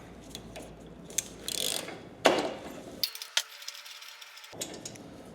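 A ratchet with a 21 mm socket and extension loosening a spark plug on a Cub Cadet ZTX5 zero-turn lawn mower, giving bursts of rapid clicking with a few sharp metallic knocks, close and alone.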